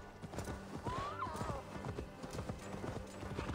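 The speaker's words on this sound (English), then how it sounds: "Can we actually ride there with the horse?" Rhythmic clip-clop of horse hooves trotting steadily in the video game Assassin's Creed Valhalla, with a brief horse whinny partway through, moderately quiet.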